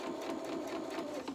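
A sewing machine runs a short, steady burst of rapid stitches, back and forth, on a doll's polka dot dress, quiet and close, with no talking.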